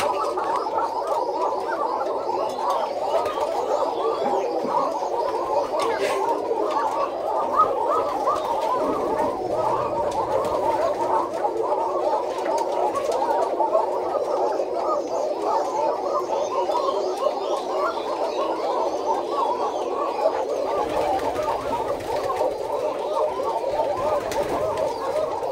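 A flock of pigeons coos inside a pigeon house, producing a dense, continuous, throaty warble of overlapping calls, close by and steady throughout.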